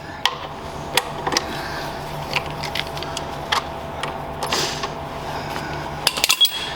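Metal parts clank and creak as a selector fork is worked out of a Foden Fleetmaster 8-speed gearbox, with scattered sharp knocks and scrapes over a faint steady hum.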